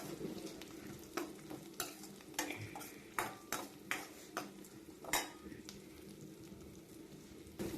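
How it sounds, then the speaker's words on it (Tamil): A bunch of curry leaves fries in oil, a soft sizzle under a series of clinking spoon or pan taps at irregular intervals, quiet and close. "கருவேப்பிலை ஒரு கொத்து போட்டு அதையும் நல்லா எண்ணெயிலே வதக்கணும்"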